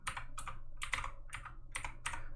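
Typing on a computer keyboard, rendered as six quick clustered bursts of clicks spaced about half a second apart. The tapping is close and steady and runs over a low background hum, with no voices.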